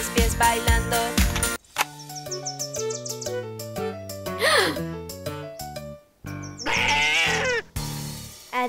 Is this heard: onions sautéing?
no